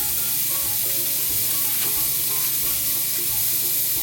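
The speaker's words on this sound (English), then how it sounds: "now the onions will cook underneath the patty" Onions and a burger patty sizzle loudly in a hot pan, a dense, continuous frying hiss with faint crackles and low rumbles, close up and without voices.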